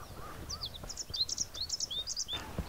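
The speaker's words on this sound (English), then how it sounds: "I'm going to sit and listen to the birds" Birds sing at Deeping Lakes Nature Reserve beside the lakes on the River Welland, with a string of high chirps and short trilled phrases at moderate distance over faint background noise.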